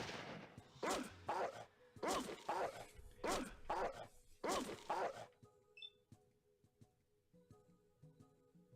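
Dog barking in the Fallout video game, a run of short, evenly spaced woofs close up and fairly loud that stops partway, leaving quieter game noises and small clicks behind.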